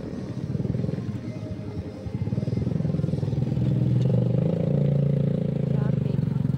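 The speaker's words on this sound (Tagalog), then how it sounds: "Traffic." Road traffic with motorcycles, a continuous low engine rumble and drone that swells louder midway as vehicles pass close, with some clatter and no talk.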